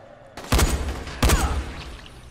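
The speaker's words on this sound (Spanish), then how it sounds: "te he metido un balazo" Two loud gunshots in the video game Dying Light, about 0.7 seconds apart, each a sharp blast with a ringing tail.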